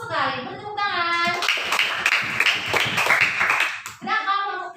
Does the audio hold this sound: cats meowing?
no